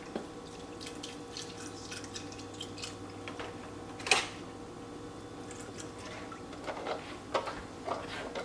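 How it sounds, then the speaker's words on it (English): Bone broth trickles and drips into a pot set to simmer, soft intermittent liquid splashes and faint drips close by, with a brief louder splash partway through. "I'm going to add some bone broth and simmer."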